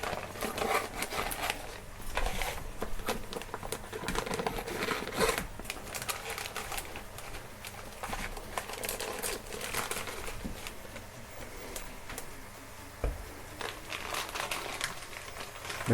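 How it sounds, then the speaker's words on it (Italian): Plastic sous vide bags being opened by hand in a kitchen while plating horse meat, giving a steady close crinkling and rustling texture throughout, with scattered sharper crackles and taps. "Quindi apro i sacchetti"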